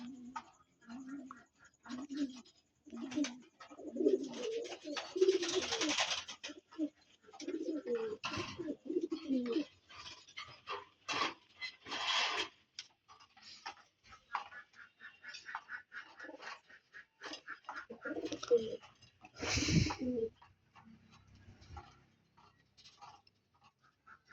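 Pakistani high flying pigeons coo repeatedly in soft, rhythmic bursts, close by, with intermittent rustling, flapping and a few louder noises mixed in.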